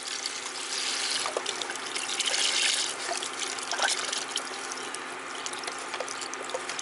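Reduced-sodium chicken broth from a 32-ounce box pours into a pot with a continuous splashing gurgle for about seven seconds, close and fairly loud, with no talking.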